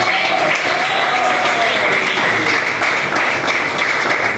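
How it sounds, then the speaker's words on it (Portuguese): Steady applause from a church congregation during a pastor's sermon, a dense, continuous wash of clapping at even loudness that fills the whole stretch without pause. "Quem bate palmas"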